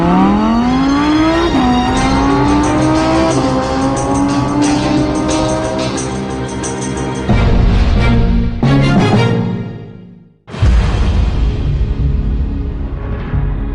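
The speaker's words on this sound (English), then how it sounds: "This is the brand new second generation Audi R8 V10 Plus." A second-generation Audi R8 V10 Plus with a ten-cylinder engine drives hard on a racetrack, close and loud, its engine note climbing steeply through several gear changes, then briefly cutting out before roaring again.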